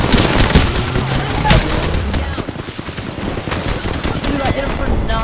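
Rapid gunfire from a video game shooter crackles almost continuously, with dense bursts of shots and a quieter stretch midway, under a faint voice.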